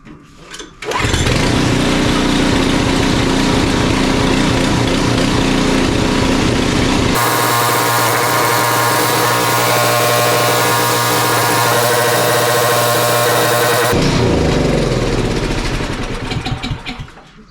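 Craftsman two-stage snowblower engine starting and running after a carburetor cleaning, a loud close steady drone with a shift in pitch partway through, then winding down at the end.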